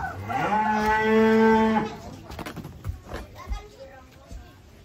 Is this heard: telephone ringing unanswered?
no